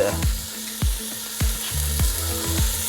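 Minced ginger heats and sizzles in a pan for chicken tinola, a soft frying hiss broken by regular scraping knocks of a utensil stirring against the pan, with no talking.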